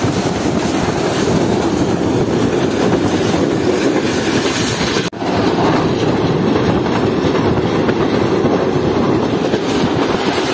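Inside the Shah Hussain Express passenger train in Pakistan, a loud, steady rumble of wheels and carriages fills the whole stretch with rhythmic clatter, broken by one brief dip partway through; no speech.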